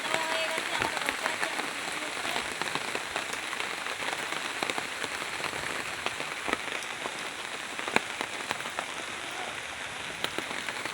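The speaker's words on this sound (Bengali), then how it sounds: "এখন বৃষ্টি হচ্ছে হালকা করে" Light monsoon rain falls steadily on surfaces outside a house, a dense, continuous patter of close drops that holds at an even level throughout.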